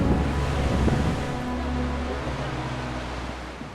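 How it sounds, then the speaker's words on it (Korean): Steady, full rushing of glacier meltwater in a Himalayan valley, close and loud, a continuous broadband wash with a windy roar and no voices. "물소리 어때? 좋지 않아?"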